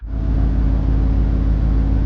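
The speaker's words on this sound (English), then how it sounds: "the optional engine sound lets you change from a subtle tone" Audi S or RS model engine with exhaust flaps and optional engine sound, a steady low throaty hum that rises quickly and holds near and loud for a couple of seconds.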